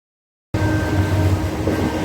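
Inside a moving train carriage, a steady low rumble and hum of the running train that starts abruptly after half a second of silence, no voices.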